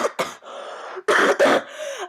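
A woman coughs repeatedly after breathing in asbestos dust, giving a cluster of harsh, close, loud coughs in quick bursts with short breathy gaps between them.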